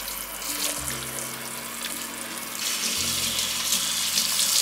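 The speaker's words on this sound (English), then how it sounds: "Next, I'm gonna wash all my bok choy." Tap water runs steadily into a kitchen sink while bok choy and other vegetables are rinsed under it, a continuous close splashing rush with faint clatter, no voices.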